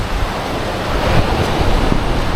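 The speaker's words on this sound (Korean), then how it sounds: "아 파도 소리" Ocean waves roll and wash steadily onto shore, a loud broadband rush that swells slightly in the middle, mixed with wind.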